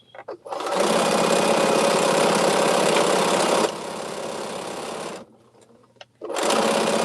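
Embroidery sewing machine stitching at a steady, loud whirring hum, stopping briefly near the middle and end before starting up again.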